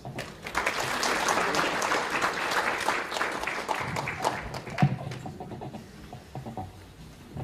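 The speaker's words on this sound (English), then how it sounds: "can we applaud him, please?" An audience at a University of Fort Hare event applauds a welcoming speaker, a steady wash of many hands clapping that fills most of the clip and thins toward the end.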